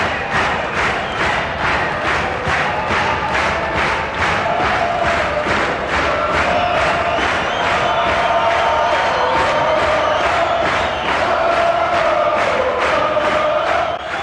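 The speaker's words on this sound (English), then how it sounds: "the Montreux crowd is famous for the manner in which it attempts to coax an artist to do an encore, not only with applause and stomping," Montreux jazz festival crowd chanting in unison for an encore, a rhythmic, repeated vocal chant with steady pulsing beats from stomping or clapping, loud and sustained by a large audience.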